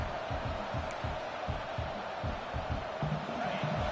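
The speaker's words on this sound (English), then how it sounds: "This crowd, full throat, splitting the eardrums" A packed college football stadium crowd roars at full volume, a dense, unbroken wall of cheering that stays loud and steady from start to finish.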